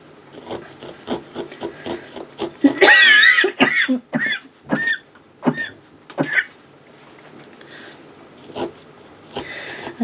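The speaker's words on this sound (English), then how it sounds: "I'm sorry about the coughing." A person coughs repeatedly at a needle felting table, with a burst of harsh coughs in a cluster near the middle and scattered single coughs after it, close and loud over faint rubbing and handling noises.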